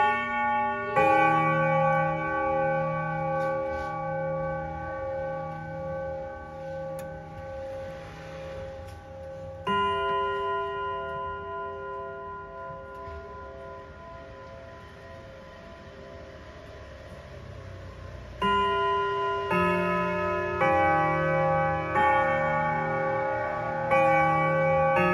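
A tall grandfather clock, 2.11 m high and 57 cm wide, chimes the Westminster melody in warm, ringing bell tones. Several phrases strike in sequence and each one rings out slowly, loud and close.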